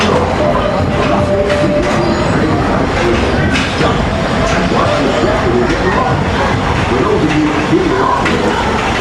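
Magic Kingdom railroad train pulling into Frontierland Station, a steady rumble of rail cars and wheels with faint clatter throughout, under background park noise and a little speech.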